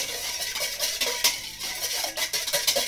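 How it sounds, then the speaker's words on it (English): Spoon scrapes and clinks against a bowl as a focaccia mixture is stirred, a quick irregular run of knocks and swishes, close and alone. "just make sure you mix it up pretty good"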